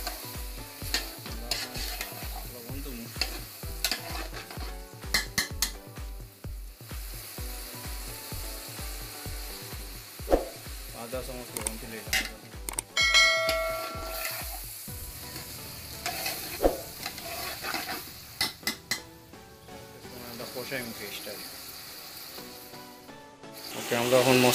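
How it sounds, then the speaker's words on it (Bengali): A spice paste for samosa filling is stirred in a hot pan, giving a steady sizzle and frying crackle. A rhythmic, regular scraping of the spoon runs through the first half, then turns into looser stirring. "পেস্টটা এখন মিক্স করলাম"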